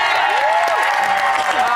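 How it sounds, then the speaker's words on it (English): A TV studio audience at the end of a live Celebrity Big Brother's Bit on the Side evening show breaks into dense, loud clapping and cheering, with rising whoops and voices woven through the roar. "Give me a round of applause."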